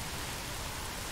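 Steady rain falling in the video game Don't Starve: Hamlet, a dense even hiss that stays constant and close throughout the short stretch, with no voices over it.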